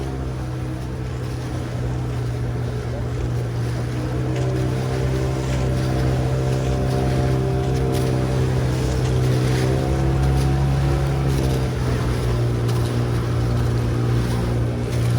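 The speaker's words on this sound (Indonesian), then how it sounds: "di sini udah ada banyak banget kapal-kapal yang pada ngumpul di sini" Many boats gathered together at sea off Lombok, a loud steady motor drone with a deep humming tone and rising engine pitch, wind and water rushing underneath, continuous and close throughout.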